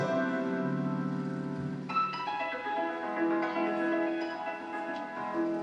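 Ukrainian tsymbaly, a hammered dulcimer, ring out in rippling arpeggios at a children's concert by the NAONI orchestra in Lutsk, bright struck tones cascading and sustaining, clear and close without voices.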